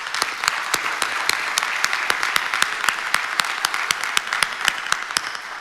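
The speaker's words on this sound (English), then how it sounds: "So please applause." Audience applause at a fatherhood tribute event: sustained crowd clapping with a few sharp, close individual claps standing out above an even wash, steady for several seconds.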